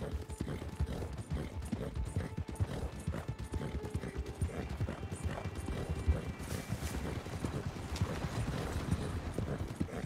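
Horse hooves clip-clop at a steady walking rhythm in Red Dead Redemption 2, with creaking tack and mechanical clicks mixed in, filling about ten seconds without talk.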